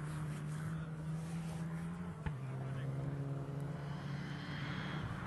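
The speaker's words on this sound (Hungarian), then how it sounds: "Figyelj meg, jön egy autó." A rally car's steady engine drone approaches at the Mikulás Rallye, holding at one pitch, dropping slightly partway through and continuing, with broadband road or wind noise around it; no voices.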